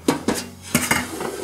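A pot being washed during home cooking, with sharp metallic clanks and scrapes of cookware and utensils in a few distinct bursts, close and fairly loud with no talking.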